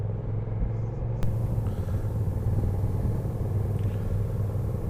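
Steady low motorbike engine rumble idling and pulling away on a steep hill start near the Long Mynd and Burway, continuous and fairly close, with wind noise and no clear revving peaks.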